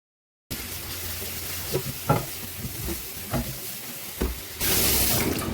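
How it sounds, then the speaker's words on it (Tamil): A pot scrubbed with a scrubber, dish soap and tap water gives a rough scrubbing rasp with repeated short scraping strokes, ending in a louder rush of running tap water. "ஒரு ஸ்க்ரப்பரில் பாத்திரம் கழுவுற சோப்பு வந்து கொஞ்சம் தொட்டு இந்த மாதிரி நல்லா கழுவி எடுத்துக்கலாம்"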